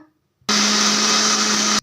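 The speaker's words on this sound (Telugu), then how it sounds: "ఇప్పుడైతే ఫస్ట్ దీన్ని మిక్సీ పట్టేద్దాం కచ్చా పచ్చగా" An Indian mixer grinder whirs loudly as it coarsely grinds chutney ingredients for a punarnava leaf pachadi, starting abruptly after a moment of quiet and running as one steady high-pitched motor roar before cutting off.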